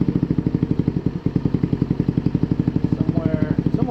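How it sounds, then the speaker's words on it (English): A GY6 150cc scooter engine with a stock CVK carburetor idles during an idle adjustment, a loud, close, evenly pulsing putter that holds steady throughout, with a brief faint voice near the end. "Set the idle where we like it."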